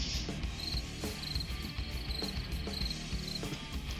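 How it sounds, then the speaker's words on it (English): A steady, continuous chorus of crickets chirps at a close, even level, with a regular high trill repeating throughout and no voices. "And crickets."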